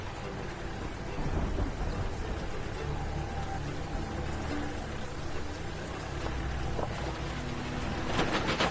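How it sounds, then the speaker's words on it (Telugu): Heavy rain pours steadily with thunder rumbling low throughout, a dense continuous wash of noise at a moderate distance, with no voices standing out. "బాగా వర్షం పడుతోంది."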